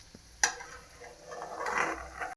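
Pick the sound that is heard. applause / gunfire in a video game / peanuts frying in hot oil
peanuts frying in hot oil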